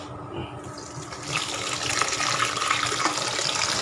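Water runs steadily from a tap, starting softer and swelling into a constant splashing gush.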